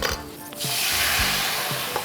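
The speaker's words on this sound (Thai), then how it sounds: "เดี๋ยวเราจะใช้ไวน์แดงลงไปดีเกรสนะครับ" A steady, loud sizzle fills the clip as red wine hits a hot pan to deglaze it, with a few soft scraping strokes underneath.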